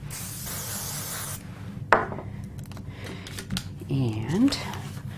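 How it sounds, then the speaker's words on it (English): A short hiss of an aerosol spray lasts over a second, followed by light handling clicks and a voice speaking briefly. "I'm going to give a quick spray on this"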